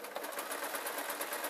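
A sewing machine stitches a men's tee shirt, its needle running in a fast, steady mechanical patter that stays loud and close throughout.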